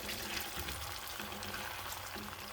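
Garlic, onion, sweet pepper and tomatoes fry together in a pan for a Tunisian sauce, producing a steady close sizzle and crackle with no talking.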